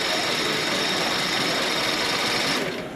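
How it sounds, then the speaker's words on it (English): Engine at the Indiana Engine Show 2025 being cranked by its starter without firing, giving a steady, loud mechanical chatter that runs unbroken for about three seconds and eases off slightly at the end. "It's turning over but not running yet."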